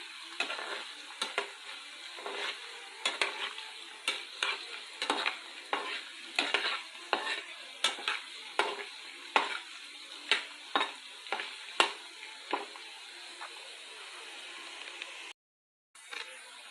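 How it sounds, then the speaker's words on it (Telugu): Potato pieces frying in plenty of oil over a high flame, a close bright sizzle broken by regular spatula scrapes and stirs that continue at an even pace until a brief gap near the end. "పొటాటో పీసెస్ అదేనండి, బంగాళదుంపలు ఈ విధంగా హై ఫ్లేమ్ మీద ఎక్కువ ఆయిల్లో ఫ్రై అవుతున్నాయండి."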